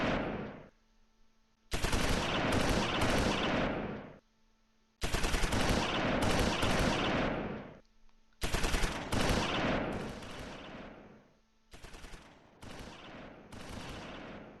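Infantry gunfire in Close Combat IV, set around Udenbreth, Bastogne and Martelange in December: loud bursts of rapid machine-gun and rifle fire come in four separated volleys, each lasting a couple of seconds, with short quiet gaps between.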